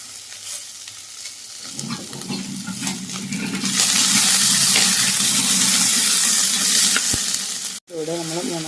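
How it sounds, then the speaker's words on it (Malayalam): Green gram, onion and three or four green chillies sizzle and sputter loudly in a pan, the frying growing fuller midway with stirring scrapes, before a brief cut and a short passage ending with a tonal chime-like sound. "ഇതിൻ്റെ കൂടെ 3-4 പച്ചമുളക് കൂടി ഇട്ട് നല്ല രീതിയിൽ വഴറ്റിയെടുക്കുക."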